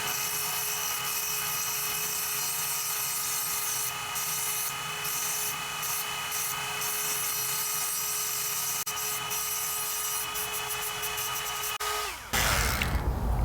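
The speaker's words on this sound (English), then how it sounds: "I got the Dremel 4300 with the flex shaft, and this is the 84922 grinding sharpening stone burr" Dremel 4300 rotary tool on a flex shaft driving a grinding sharpening stone burr gives a steady high whir with intermittent grinding contact, then spins down abruptly near the end.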